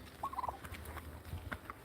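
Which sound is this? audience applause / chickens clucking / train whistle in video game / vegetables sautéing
chickens clucking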